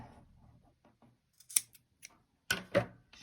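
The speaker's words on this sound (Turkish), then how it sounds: "Uç kısımlarını hafif kesiyorum yine." Scissors trimming the ends of macrame cord: a few quiet, close snips with sharp blade clicks, two clustered near the end, in an otherwise quiet room.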